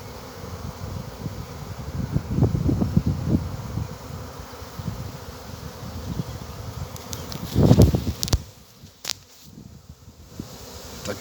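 Yellowish honeybees buzz around a swarm outdoors, a dense continuous drone of many wings with louder swells as bees pass near, over soft rustling and light wind.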